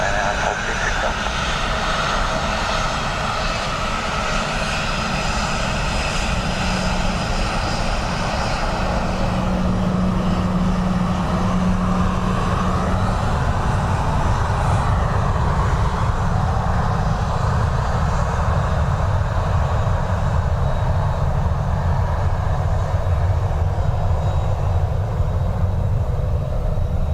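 A Ryanair airliner comes in to land on runway 28 left at Dublin Airport in gusty crosswinds, its engines a steady broad roar throughout, with faint voices present.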